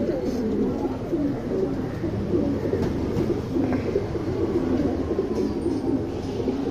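Tournament pigeons cooing, a steady low murmur of overlapping coos from several birds nearby, continuous throughout.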